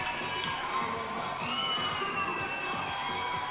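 Baseball ballpark crowd during a minor league game, a steady energetic roar of cheering and shouting voices, with some whoops standing out, dense and continuous.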